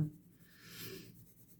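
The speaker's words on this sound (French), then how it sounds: "ces crayons de couleur, pardon, ils sont agréables pour colorier" Colored pencil rubbing across paper in a quiet room, a soft, close scratching stroke that swells for about half a second and then fades away.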